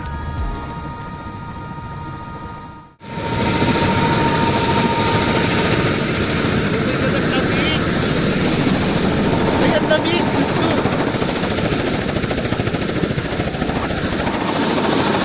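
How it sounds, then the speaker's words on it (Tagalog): Helicopter flying over Queenstown, New Zealand, its loud steady rotor and engine roar filling the whole passage after a brief dropout near the start. "But this is the other helicopter"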